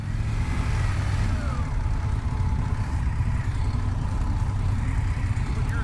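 A 2025 Indian Scout 101 motorcycle engine runs continuously while riding, a loud, close, throbbing rumble with a steady drone and slight rises in pitch.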